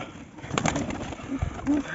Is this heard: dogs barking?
no